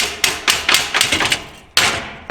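Sharp hammer blows knock a stuck part free on a 90-year-old Ford Model A during a chop job, about seven loud metallic strikes in an uneven rhythm with a brief pause before the last ones.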